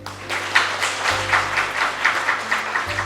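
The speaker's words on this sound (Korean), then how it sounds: "특별히 끝까지 이렇게 애쓰신 우리 중앙고 학생들한테 박수 한번." Audience applause for students at an education forum in South Jeonnam, a steady patter of many hands clapping at moderate loudness, sustained throughout with no voices over it.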